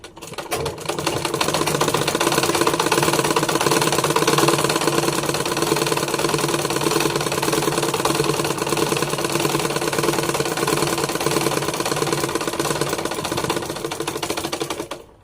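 A sewing machine stitches a pillow cover in a rapid, steady mechanical chatter, close and moderately loud, running continuously for about fifteen seconds with no talk.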